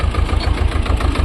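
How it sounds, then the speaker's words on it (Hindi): A tractor engine on a mountain path on the route to Kedarnath chugs loudly and close with a steady, throbbing low rumble and rhythmic knocking pulses, with no voices over it. "पहाड़ों पर ट्रैक्टर भी चल रहा"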